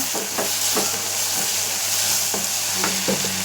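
Onions sauté in a pan with a steady sizzle, broken by several spoon scrapes and stirs at irregular intervals, close and fairly loud with no talk.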